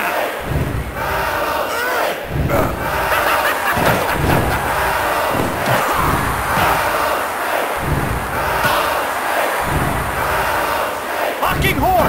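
Wrestling arena crowd in the PS1 game WWF Attitude during a Royal Rumble, cheering and shouting in a loud, continuous roar with pulsing swells and occasional thuds from the ring, sustained throughout.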